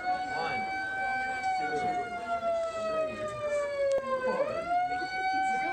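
A wailing siren sweeps steadily down in pitch, then swoops back up, loud and continuous with faint background noise.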